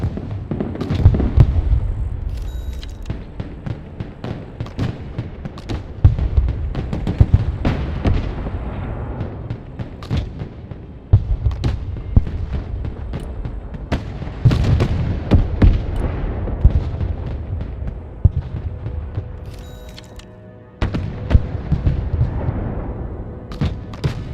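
Weapons fire in the military strategy game Broken Arrow: dense, continuous bursts of loud booms and cracks rolling over a low rumble, with brief lulls between volleys.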